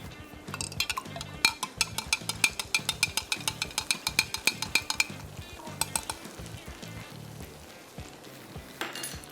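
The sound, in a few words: beef stock being added to the pot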